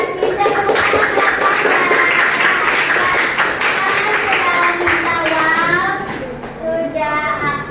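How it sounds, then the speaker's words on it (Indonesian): A class of children claps hands together in a classroom as the teacher calls for applause, a dense steady patter of claps lasting several seconds alongside children's voices, thinning slightly toward the end. "kita tepuk tangan."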